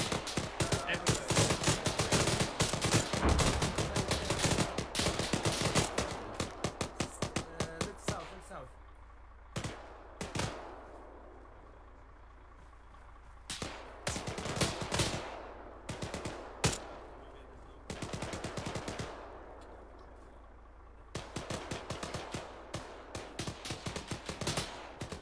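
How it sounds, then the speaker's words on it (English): Bursts of rapid gunfire from the military shooter game ArmA 3: heavy, dense volleys at the start, then scattered shots and short automatic bursts from near and far, with gaps of quieter battlefield ambience between them. "Taking fire from everywhere."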